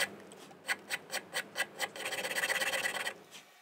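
A wooden button on a violin neck is shaped by hand, giving a series of distinct rasping strokes, about six evenly spaced, then a quicker run of short rubbing scrapes that fades out. Close and fairly quiet.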